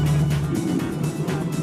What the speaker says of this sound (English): the Destroyer's car is losing power. It sounds like that old Jeep engine has had enough Grand Prix punishment